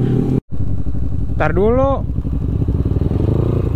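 A tuned Yamaha Aerox 244cc scooter engine blips in a sharp rising rev over a steady close idle, with people chatting over the engine noise.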